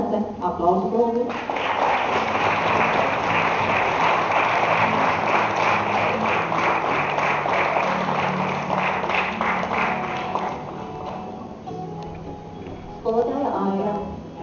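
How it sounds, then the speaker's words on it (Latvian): An audience applauds a children's class at a school gathering with teachers, the clapping rising into a dense, sustained burst of about nine seconds, with a voice speaking briefly before and after. "klase, aplausu lūdzu."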